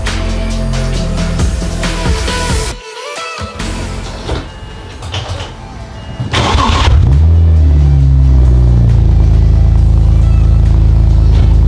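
A BMW E92 335i with a manual gearbox runs after a fresh battery install, its engine note loud and steady, swelling into a stronger sustained rumble partway through, with clunks and handling noises early on and no talk.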